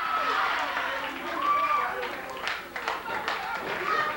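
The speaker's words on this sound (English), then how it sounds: "the Fantastics getting a little support from the crowd out there as Tommy Rogers drums it up" A wrestling arena crowd at a 1986 Memphis CWA show claps and cheers for the Fantastics, scattered rhythmic claps and crowd noise heard under ongoing talk.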